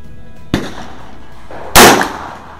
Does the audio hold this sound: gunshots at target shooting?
yes